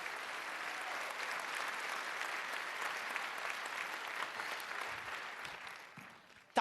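Sustained applause from a comedy show audience, a dense, even wash of clapping that holds steady for several seconds before tapering slightly at the end.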